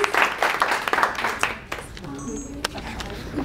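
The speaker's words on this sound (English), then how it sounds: "Let's have another round of applause for all of our guests here on the Saturday to share their stories." An audience at a YouTube Creator Day panel in Atlanta, 2017, claps for the guests in a loud burst that dies away after about a second and a half, leaving a quieter room with a few stray taps.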